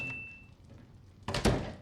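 Door as a character walks out in The Boys, a soft thud and rattle near the end after a quiet stretch with a brief tone.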